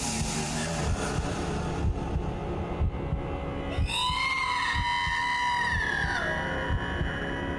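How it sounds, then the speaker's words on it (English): A high, wavering scream rises over a low throbbing, heartbeat-like drone in the horror shooter F.E.A.R., lasting a couple of seconds and sliding downward before fading. "Oh, that scream."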